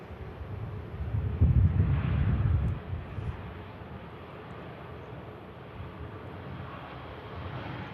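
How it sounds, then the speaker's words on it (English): A Lufthansa Airbus A320 airliner arriving from Frankfurt roars past at a distance, a broad rushing jet noise that swells over the first few seconds and then fades to a steady faint wash. "Lufthansa in from Frankfurt, A320."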